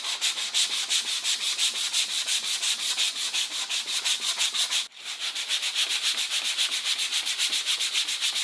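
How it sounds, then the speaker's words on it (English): Steady back-and-forth scraping of sandpaper on a car body panel of a Citroën Ami, fast and rhythmic with a brief pause midway, loud and close. "I think that's another 45 minutes of sanding."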